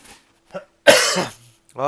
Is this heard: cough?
yes